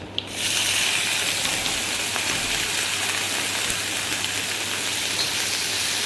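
Onions frying in a pan for an aloo baingan curry, a steady dense sizzle that starts abruptly after a short quiet moment and carries on evenly, close and moderately loud.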